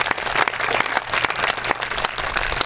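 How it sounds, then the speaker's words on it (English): An audience applauds in a full, even round, with sharp individual claps standing out from the steady wash of many hands. "let's have a round of applause, too, for Jody Sabrowski and Raylene Anderson and Debbie Norton"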